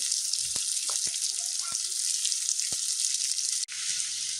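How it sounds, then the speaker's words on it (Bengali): Potatoes fry in oil in a pan with a steady, dense sizzle, broken by a few faint knocks and clinks and a brief dip near the end before the hiss resumes. "আমার আলুগুলো ভাজি হয়ে গেছে, এখন আমি নামিয়ে ফেলবো।"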